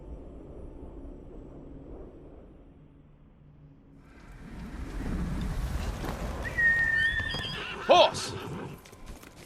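Horse neighing in the Ghost of Tsushima video game, a loud whinny rising late over hoofbeat clip-clops and wind, after a stretch of quieter ambience with low talk.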